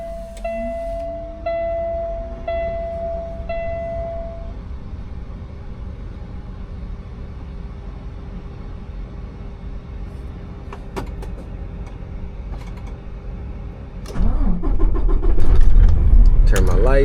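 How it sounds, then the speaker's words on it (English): A 2021 or 2022 Peterbilt 579 diesel truck primes with a rising whine and electric beeps, then its engine cranks and starts about two-thirds through, settling into a loud idle. "Turn my truck on. Diesel, you gotta let it prime up first."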